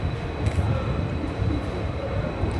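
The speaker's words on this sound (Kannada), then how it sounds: "ನಮ್ಮ ಟ್ರೈನ್ ಬಂದಿದೆ ಪ್ಲಾಟ್ಫಾರ್ಮ್ ನಂಬರ್ 5ರಲ್ಲಿ" A Bengaluru to Mysore passenger train at a station platform produces a continuous, fairly loud low rumble with a steady mechanical drone, and no voices stand out.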